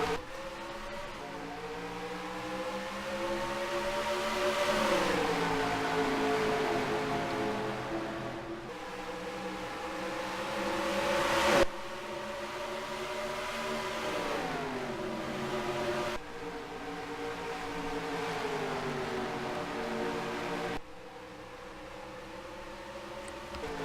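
Race car engines in a sim racing game at Dover's Monster Mile, Delaware, drone loudly and steadily with rising and falling pitch as they accelerate. Several abrupt cuts between engine passes, and no talk.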